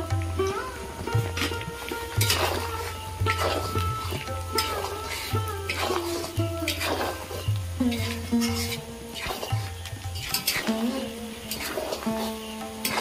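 Slit green chillies and coconut fry in a pan during Bengali cooking for Ranna Puja, a close crackle and sizzle with repeated stirring clatters and a held hum underneath.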